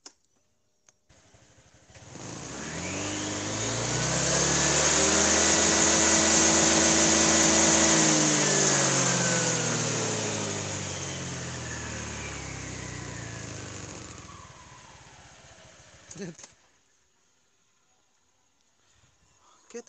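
A Honda Vario 125 scooter fitted with a PCX CVT pulley and stock roller housing starts and revs up loudly and close, its engine pitch rising and holding, then easing off before cutting out near the end.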